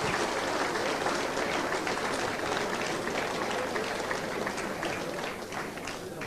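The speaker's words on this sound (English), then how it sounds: "let's give them a big clap as they go" A large audience claps continuously, steady dense applause that fades slightly toward the end.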